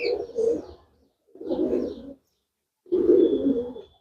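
A racing homer pigeon, a blue bird, coos in three soft, throaty phrases separated by short silences while being held close.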